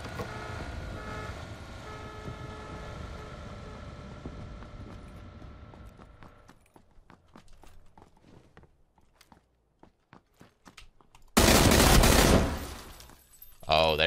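M16 rifle fire in a shooter game, a loud burst near the end after quieter scattered shots and footsteps, with game ambience earlier.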